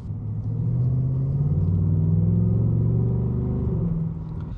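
A Ford Mustang GT's 5-liter naturally aspirated V8 rumbles steadily from the car, a deep, loud engine drone that swells slightly midway and then eases off, with no voices over it.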